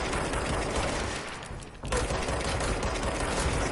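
Gunfire in the video game Control: a dense, loud, unbroken rattle of rapid shots, cutting out for a split second before the barrage resumes at full force.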